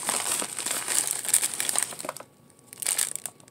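An envelope-style mail package crinkles as it is handled and opened up close, with several bursts of crisp plastic crackling, a short pause, then more crinkling.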